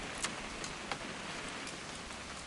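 Rain falls in the video game What Remains of Edith Finch, a faint, even hiss with a few soft drip ticks scattered through it.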